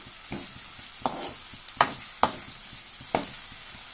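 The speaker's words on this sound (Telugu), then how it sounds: "ఈ మసాలా మొత్తం ఆయిల్లో ఫ్రై అవ్వాలి" Masala frying in oil in a pan for stuffed brinjal curry, a steady soft sizzle broken by a handful of sharp stirring scrapes spaced irregularly, close and alone with no voices.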